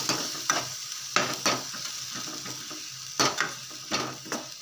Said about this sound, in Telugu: దీంట్లోకి వేసేస్తే బాగా ఫ్రై అయిపోతుంది.